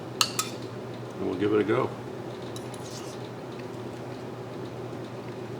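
A spoon scrapes cooked paella mixta rice off the bottom of the pan, a short scratchy metallic scrape of about a second, close and fairly loud, with a couple of clinks before it and brief talk.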